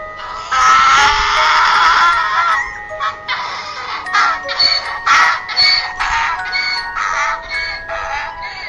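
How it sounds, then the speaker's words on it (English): A donkey brays loudly and close, in one long harsh call followed by a series of rhythmic, rising and falling hee-haw pulses. "Donkey."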